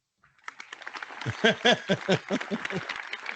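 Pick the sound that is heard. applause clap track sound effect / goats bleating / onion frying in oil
applause clap track sound effect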